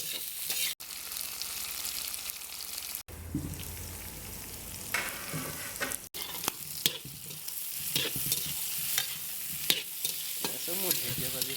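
Pork and dhekia fern greens fry in a pan, a continuous close sizzle broken by irregular scraping stirs and clanks of the spatula against the metal, with no voices.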